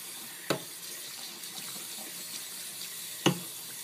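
Tap water runs steadily while a shaving brush and soap are rinsed, a soft continuous splash broken by two brief knocks.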